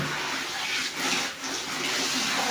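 Running water from a tap rinses cross stitch pieces, a steady close splashing gush that dips briefly twice as the flow is interrupted, with no talk over it.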